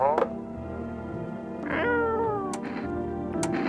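A cat meowing in a video game, a drawn-out meow with a rising then falling tone, close and fairly loud, along with other game sounds.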